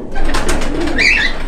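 Domestic pigeons, female birds of an imported red-eyed breed, cooing close by in a loft, a steady low murmuring coo lasting the whole moment with a brighter call note near the end.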